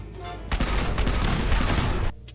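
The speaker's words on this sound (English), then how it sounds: "I'm sure that Kellogg believes that being in an underground fortified bunker will make him safe from artillery" A loud burst of artillery fire in the video game Fallout 4 booms suddenly and rumbles for about a second and a half, with rapid overlapping blasts before it cuts off.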